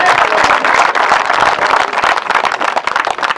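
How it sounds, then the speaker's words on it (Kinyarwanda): Applause from a congregation at a Seventh-day Adventist church choir concert in Mageragere: a dense, continuous patter of many hands clapping, fairly loud and sustained throughout. "Amashyi menshi."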